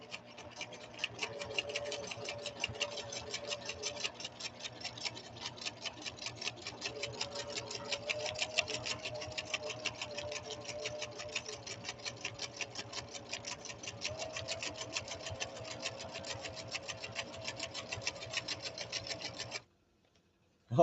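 An air-powered Husqvarna Viking sewing machine stitches fabric at speed, a rapid, even mechanical chatter with a faint whine that runs steadily for about twenty seconds before stopping abruptly.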